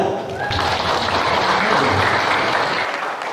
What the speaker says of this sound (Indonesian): Tepuk tanganlah